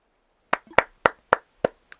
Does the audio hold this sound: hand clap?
yes